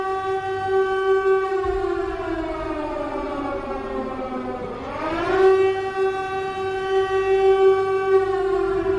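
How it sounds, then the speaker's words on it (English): An air raid siren wails loud and steady, its tone sagging and dipping midway before rising back to a sustained howl, with no voices over it. "Did the air raid siren work at all right there?"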